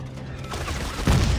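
Gunfire in the sci-fi horror video game Dead Space 3 erupts as a dense burst of shots, with a heavier loud blast near the end over a busy game soundscape.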